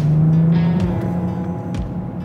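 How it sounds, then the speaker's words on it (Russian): A previously written-off Bentley's engine revs up as the car climbs a hill, a loud close growl with a rising tone that steadies and holds, with faint road noise beneath. "Вот мы сейчас в горку едем, я могу газануть."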